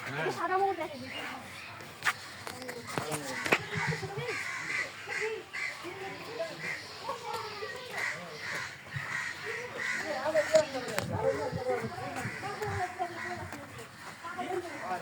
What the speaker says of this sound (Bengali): দুষ্টু কোকিল ডাকে